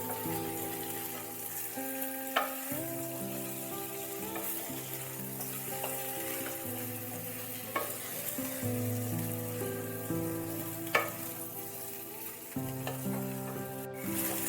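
Potatoes fry with ground spices in a pan, sizzling steadily while being stirred, with occasional scraping clinks over background music and no speech.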